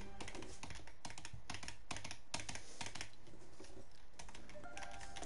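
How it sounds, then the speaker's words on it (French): A computer keyboard clacks loudly and rapidly up close during an online game session, bursts of key presses in an uneven rhythm with no talking. "Mon clavier il fait du bruit."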